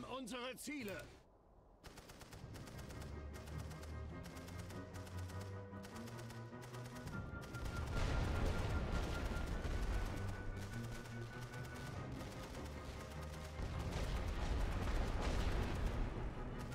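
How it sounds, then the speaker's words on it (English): Rolling artillery barrage in the World War One strategy game The Great War: Western Front, a continuous dense roll of booming impacts and gunfire that swells louder midway and again near the end, with a voice talking briefly at the start. "rolling barrage starting there and rolling straight over this"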